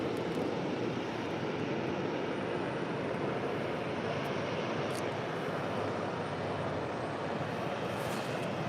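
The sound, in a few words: United Airlines Boeing 757-200 arriving at LAX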